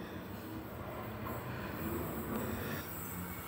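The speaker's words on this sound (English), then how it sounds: "we have a H set passing platform number 2" A Sydney H set electric train passes a station platform, producing a steady, close rumble with wheel and rail noise and a faint high squeal throughout.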